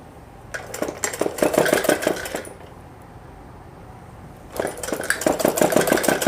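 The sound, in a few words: sewing machine stitching pleats on cloth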